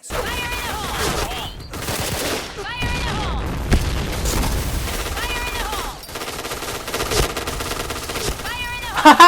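K2C EBR rifle fire in the shooter game Point Blank: loud, rapid bursts of gunshots repeating across the span with short gaps between volleys, plus scattered game effects.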